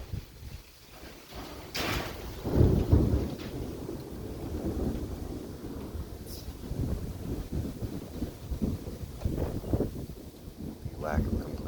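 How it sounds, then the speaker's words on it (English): Cool wind blows outdoors near an unfinished shed, making a steady rushing roar with gusty swells that buffet the microphone, and a loud rumbling surge partway through. "there's a kind of cool wind going on right now"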